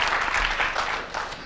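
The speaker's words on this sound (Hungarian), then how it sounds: "A nem euklidészi geometria atya, tapsoljuk meg." Audience applauding at a lecture-style show after a call to clap for a mathematician: a brief, dense burst of hand-clapping, close and steady, with no voices over it.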